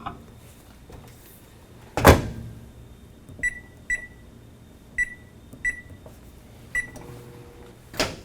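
A microwave oven warming a brownie in a mug: a sharp door thump, then a series of crisp keypad beeps as the timer is set, followed by another thud, close and clear.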